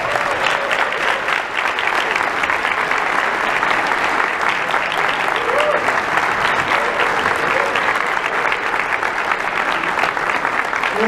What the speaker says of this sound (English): let's please give the Apopka High School Band a big round of applause.